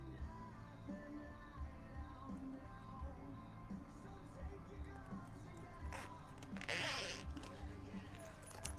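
A metal zipper pull is fitted onto the zipper of a handmade sewn bag: faint handling clicks and rustles, then a brief, louder zipping rasp near the end.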